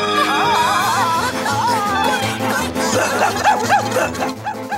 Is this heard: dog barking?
yes